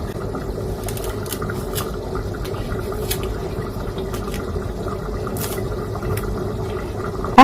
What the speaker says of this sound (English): I'm going to quickly rinse it up